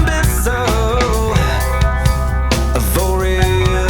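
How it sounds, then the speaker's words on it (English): Electric guitar through a clean amp channel with the gain turned down, in a tone-matching attempt for a specific album's sound; dense sustained chords and notes ring continuously at steady loudness, with no talking. "so now this is back to dialed down on the gain on the clean channel"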